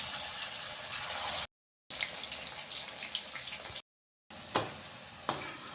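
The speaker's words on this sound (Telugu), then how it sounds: "ఆయిల్ హీట్ అయిన తర్వాత చికెన్ పీసెస్ని ఒక్కొక్కటిగా వేసుకోవాలి." Pieces of chicken for a restaurant-style dragon chicken fry in hot oil with a steady close sizzle and occasional crackles, broken by brief cuts of silence.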